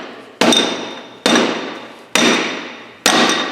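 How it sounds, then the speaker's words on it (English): Four evenly spaced, sharp strikes from a rubber hammer, each loud and close with a short ringing decay before the next blow, and no talking in between. "You think you need a real hammer instead of that rubber one."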